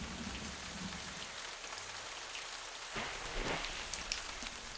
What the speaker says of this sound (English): A raindrop crashes like a bomb on these insects no bigger than a speck of dust.